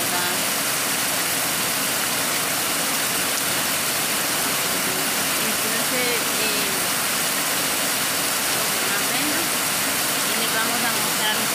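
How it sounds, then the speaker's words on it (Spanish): Heavy rain pouring down outside a small roadside snack shop, a dense, constant roaring wash of water with no breaks, loud and close for the whole stretch. "Está lloviendo mucho."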